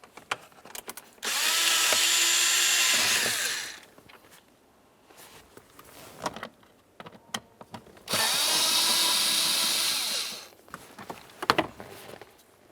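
Cordless power drill spinning out Phillips head screws from a panel on a 1999-2003 Toyota Solara during blower motor replacement: two sustained whirring bursts of a few seconds each, close and loud, separated by quieter handling clicks.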